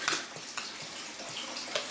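Water runs steadily from a tap, a soft, continuous splashing hiss at low volume with small irregular splatters, as sourdough bread dough is wetted under it.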